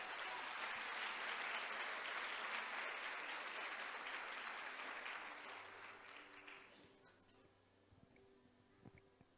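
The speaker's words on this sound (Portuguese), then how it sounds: "Você pode aplaudir a palavra de Deus?" A church congregation breaks into loud, sustained applause that holds steady, then tapers off, leaving a quiet room with a few faint scattered sounds.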